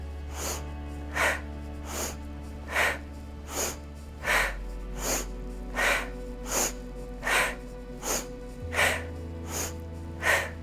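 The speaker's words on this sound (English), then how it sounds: "You'll inhale through the nose, exhale out of the mouth." Rhythmic breathing, drawing in through the nose and releasing out through the mouth, in a steady series of close, soft airy puffs at a calm, even pace over a low background hum.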